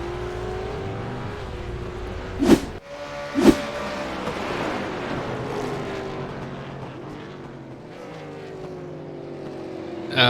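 A V8 race car on the Oran Park circuit runs off onto gravel, its engine roaring, then two sharp loud bursts of crunching and scraping give way to the engine note fading and steadying.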